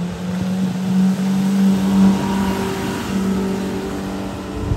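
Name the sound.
Key Largo 1801 LTD boat accelerating onto plane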